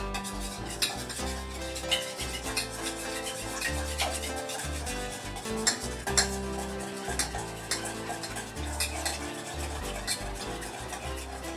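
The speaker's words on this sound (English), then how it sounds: "Then, I'm going to mix it all." Meatloaf ingredients being mixed with oil in a bowl, steady rubbing, squishing and scraping at a low level with a fairly regular rhythm, no voices.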